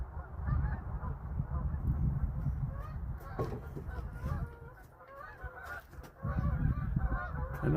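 Several flocks of geese with a cackling goose among them fly over farm fields, honking continuously in a dense, overlapping chorus at moderate distance, with occasional sharper calls and a brief lull before the honking swells again.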